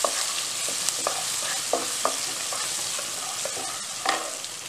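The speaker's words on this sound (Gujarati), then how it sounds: "લીલા મરચાંની કટકી કરેલી હતી તે ઉમેરી દઈશું અને સહેજ તેને હલાવીને શેકી લઈશું" Sesame seeds and chopped green chillies sizzle steadily as they are stirred and fried in a pan, with a spoon scraping the pan in repeated scrapes and clinks over the continuous frying hiss.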